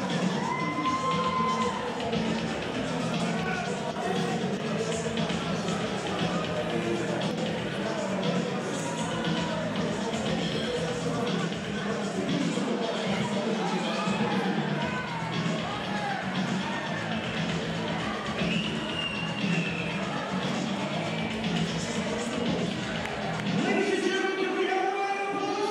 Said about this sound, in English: They're chanting Logan at the moment in the crowd.